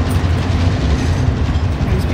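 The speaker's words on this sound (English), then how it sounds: "Train's here." A train rolls into a video game shooter match, giving a steady, loud rumbling clatter of rail cars with low mechanical grinding throughout, with no speech over it.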